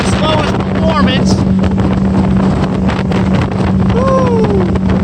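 A 2017 Hurricane FD226 deck boat runs at speed over smooth water into the wind, its engine a steady loud drone under heavy wind buffeting, with brief whistling and squealing tones above the rush.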